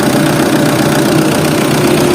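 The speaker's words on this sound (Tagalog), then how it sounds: "okay na kalmado na ulit yung makina" An engine idles loud and close with a steady, even hum and a slight rhythmic throb, unbroken throughout.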